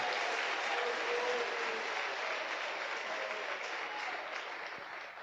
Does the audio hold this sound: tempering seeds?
no